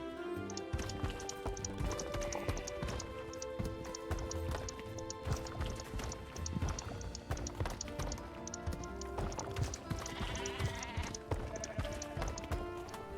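Dall sheep in the Planet Zoo video game bleat again and again, close and clear, layered over a dense animal ambience with scattered hoof clip-clops.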